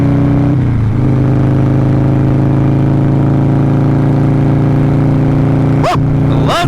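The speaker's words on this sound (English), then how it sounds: "This exhaust is loud." A 2000 Harley-Davidson 883 with a loud exhaust drones steadily while riding, a close, throaty low rumble holding a constant pitch, with a brief dip early on and a quick rev burst near the end.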